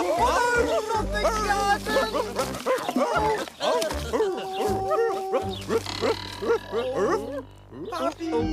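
Cartoon puppies bark and yip in quick bursts over background music, with characters talking among the barks.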